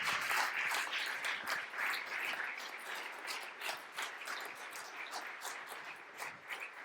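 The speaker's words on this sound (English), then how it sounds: "big applause for the people" An audience at a tech meetup applauds in a soft, scattered wash of many clapping hands that swells and thins unevenly over several seconds, heard at a distance and quiet, with no speech.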